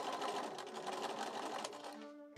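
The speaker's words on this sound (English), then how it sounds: "I could then press the yoke round to the wrong side and then into position, enclosing the raw edges and matching that folded edge up to my stitching line so I could top stitch" Sewing machine top stitching a curved yoke on a chemise, a fast steady mechanical whir up close that slows and stops at the end.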